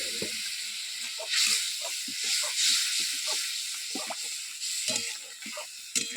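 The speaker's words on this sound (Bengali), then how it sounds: "একটু জলটা ফুটুক এবারে।" A fish curry with tomato, chilli powder and coriander powder boils in a pan in a village kitchen, giving a steady broad hissing bubble throughout. Scattered low knocks and stirring sounds and a voice talking come through underneath.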